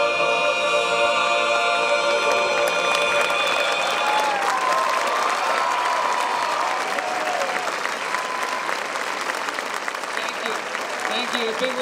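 Outdoor audience applause at a D-Day 75th anniversary ceremony at the American Cemetery at Omaha Beach, steady and loud for the full length as sustained tones from the band fade out.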